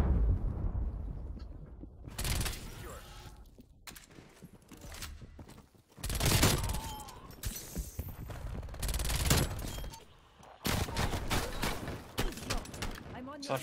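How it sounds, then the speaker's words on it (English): Gunfire in a Call of Duty-style first-person shooter with a MAC-10 submachine gun, rapid bursts of shots coming in several dense clusters separated by quieter gaps, loud and close. "Stop shooting at me."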